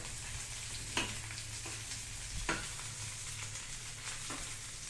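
Garlic sautéing in a pan for egg curry, a soft, even sizzle with a few light stirring knocks and scrapes, fairly quiet and without voices.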